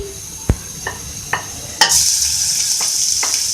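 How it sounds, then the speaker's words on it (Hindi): Garlic sizzling in hot oil, with a few sharp utensil taps and scrapes early on, then a steady bright frying hiss. "सबसे पहले ऑयल में मैं लहसुन ऐड करूंगी"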